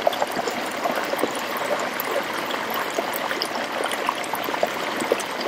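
A small babbling brook runs through garden water features on a residential property, giving a steady close trickle and burble of flowing water with scattered bright splashes and no voices.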